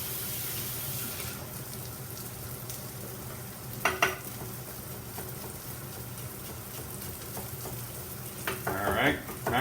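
Garlic frying in a pan for a cod loin with red pepper dish, a steady soft sizzle with occasional stirring clatter and a brief burst of running water near the end, with no talking.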